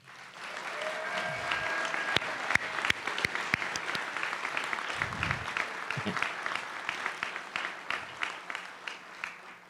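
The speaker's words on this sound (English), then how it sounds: "Let's give all the honorees another hand there." Applause for alumni honorees at a recognition ceremony, a sustained, dense clapping from a large audience in a hall that holds steady and then thins out, with some talk underneath.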